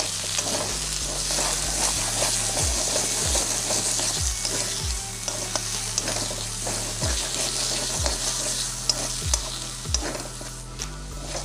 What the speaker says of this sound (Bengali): এই স্টেজে আমি ফ্লেমটাকে একদম লোতে করে দেব আর দিয়ে হালকা হালকা নাড়তে থাকবো আর এটাকে ফ্রাই হতে দেবো